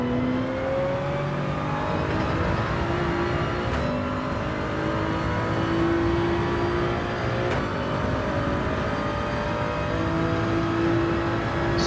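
Race cars in Gran Turismo 7 drone steadily through a daily online race, engines whining and shifting pitch through gear changes at a constant, fairly loud level with no talk.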